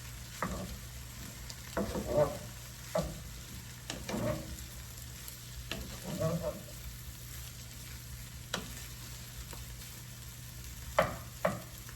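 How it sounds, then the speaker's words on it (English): Vegetable fried rice sizzles and crackles in a hot pan over high heat, a steady fry with repeated bursts of stirring and tossing, close and moderately loud. "Keep the flame at high, because you want to fry this at a high heat"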